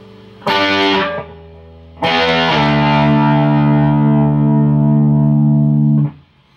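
Distorted electric guitar playing a riff: a short chord stab, a pause, then a chord sliding up the 5th and 4th strings that rings out long and buzzy before cutting off.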